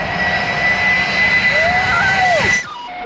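A fixed-wing airplane comes in to land low overhead, its engines roaring loud and close with a whining tone that sweeps down in pitch before the noise drops off abruptly.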